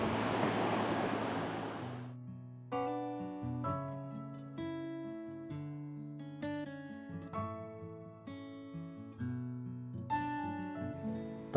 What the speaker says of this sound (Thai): น้ำไหลผ่านตลอด